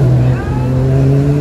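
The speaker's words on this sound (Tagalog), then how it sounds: "Ayan o, daming sasakyan." Traffic near Jeddah Park with cars going by, a steady engine drone and tonal hum under a voice talking close by.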